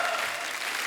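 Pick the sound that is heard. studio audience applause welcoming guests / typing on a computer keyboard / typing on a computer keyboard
studio audience applause welcoming guests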